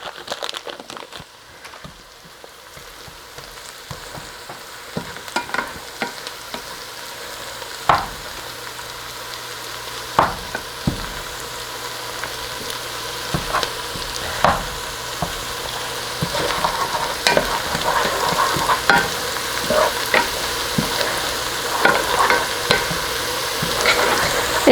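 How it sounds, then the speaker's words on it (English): Butter melts in a pan on low heat while being stirred, a soft steady sizzle carrying through with frequent light scrapes and clicks of the utensil against the pan, close and unhurried. "I'm going to keep this on low heat, and I'm going to really pay attention and stir this butter until it's melted all the way"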